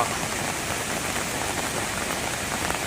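Heavy rain pours steadily at a misty mountain campsite near Pha Daeng waterfall, its dense hiss blending with the rushing roar of the falls, continuous and loud with no voices.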